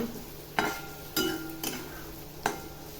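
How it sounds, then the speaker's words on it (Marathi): Coconut masala paste made with garlic, ginger and grated coconut frying in oil in a pan for a whole masoor curry, with a steady sizzle and four sharp stirring scrapes of a spoon spaced across the span. "आता हे खोबऱ्याचं वाटण टाकते तेही चांगलं तेलामध्ये परतून घ्यायचं"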